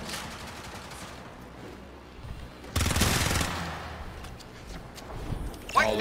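Gunfire in the video game Warframe during a 1v1 match, with a loud burst of rapid automatic fire in the middle and scattered shots around it. Voices from players talking are faintly present.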